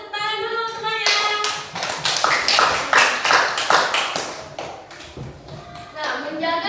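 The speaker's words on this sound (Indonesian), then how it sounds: "Berarti tepuk tangan dulu semuanya." A room full of children clapping their hands together in a classroom, a loud sustained burst of rapid, overlapping claps with a few voices mixed in.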